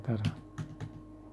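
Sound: typing a value on a computer keyboard

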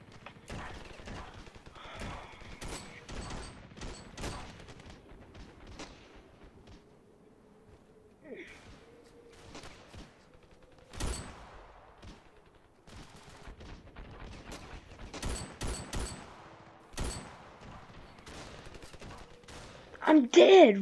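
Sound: gunfire in the video game Ravenfield

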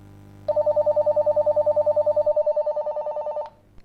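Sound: two-way radio call alert tone

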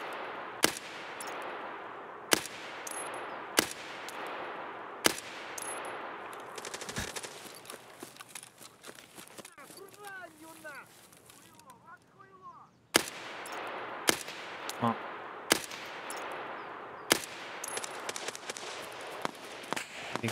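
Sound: gunfire in the video game Escape From Tarkov

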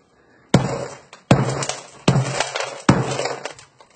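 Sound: smashing a phone encased in a hardened sponge

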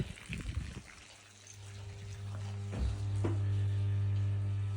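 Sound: vibration pump pumping water from a borehole

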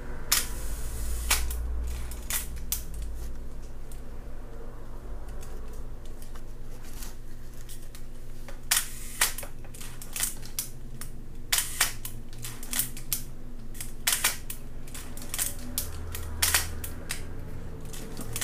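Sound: Olympus OM-1 camera shutter firing

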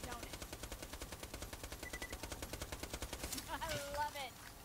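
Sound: gunfire shooting in the video game Borderlands

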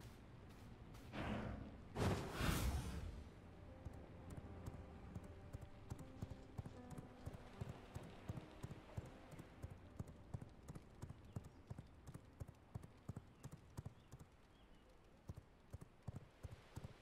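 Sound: horse hooves clip-clopping in the video game V Rising

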